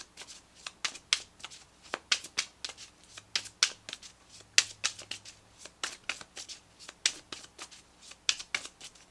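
Tarot cards from an Everyday Witch Tarot deck are shuffled close up in crisp, rapid riffling bursts that repeat steadily, with short pauses between handfuls of cards.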